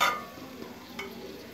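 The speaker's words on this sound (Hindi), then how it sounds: "बीफ को हम गोश्त घी के साथ फ्राई करेंगे" Beef frying in ghee gives a soft, steady sizzle with a brief stir scrape at the start and a few faint clinks, heard close and quiet without talk.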